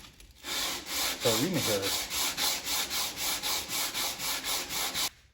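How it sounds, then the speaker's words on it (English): Rhythmic back-and-forth scratching of sandpaper on the outside of a wooden socket organizer, about a dozen even strokes, close and loud, with a short spoken phrase early on. "Now we're just gonna sand the outside."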